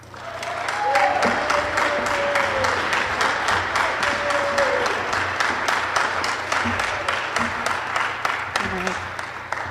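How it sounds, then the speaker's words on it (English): An audience applauds a speaker coming up at a college talk. Steady, moderately dense clapping runs throughout, with a few voices murmuring under it. "Please give her a round of applause."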